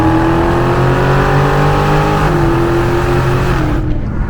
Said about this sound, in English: This thing will accelerate at the lowest gear possible before you even hit the gas pedal.